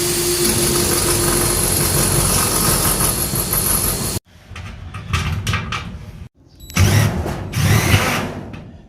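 A loud power drill bolting a shed into concrete whirs steadily for about four seconds, then cuts out and fires in two more shorter, uneven bursts with brief pauses between.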